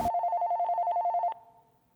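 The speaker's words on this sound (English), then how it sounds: "that damned phone rings again" A telephone rings with a rapid trilling electronic bell, loud and steady for just over a second before cutting off and fading out.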